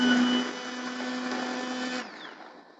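A blender whirs steadily at high speed with a strong constant motor hum, blending lentil soup, then cuts off abruptly near the end, leaving a fading whine.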